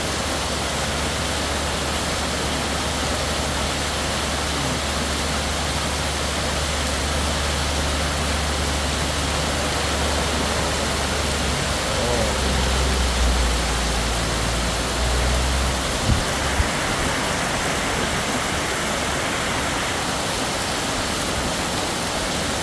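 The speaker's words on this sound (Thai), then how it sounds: "ไม่มีทีท่าว่าจะเบาเลย นะครับ ตกหนักตลอดนะครับ" Heavy rain pours steadily in Kanchanaburi, a dense, loud, unbroken hiss that holds without easing throughout, with a faint low rumble underneath and no voices.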